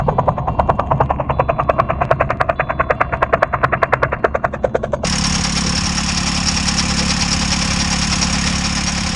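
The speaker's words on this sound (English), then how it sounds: "the engine was starting to make much more noise, and we weren't liking the sound of that" A sailboat's inboard engine runs roughly and loudly, first with a rapid, uneven knocking pulse, then shifting abruptly into a harsher continuous drone, close to the listener with no talk.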